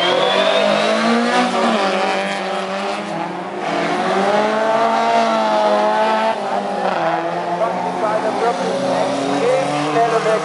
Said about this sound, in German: Sinkonen mit seinem Volvo jetzt in Führung, da Luc Maris in den Joker gegangen ist